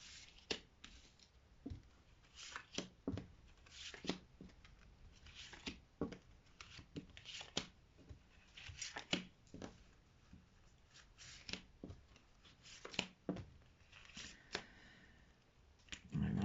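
A tarot card deck being shuffled by hand, giving quick riffling flicks and soft taps in irregular bursts, close and fairly quiet, with no talking.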